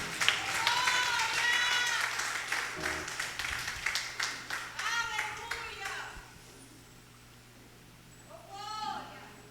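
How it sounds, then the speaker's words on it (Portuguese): A church congregation applauding during a service, a dense burst of clapping mixed with voices and cheers that fades out midway, followed by a quieter stretch with a brief vocal swell near the end. "Aplaude o nome do Senhor Jesus"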